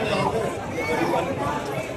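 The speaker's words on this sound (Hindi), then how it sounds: "अंदर से तो ज़्यादा बाहर भीड़ है भाई" A dense crowd gathers outside the gate of Ajmer Dargah Sharif, a continuous hubbub of overlapping voices and chatter close by, with no single voice standing out.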